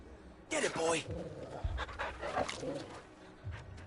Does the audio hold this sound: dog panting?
yes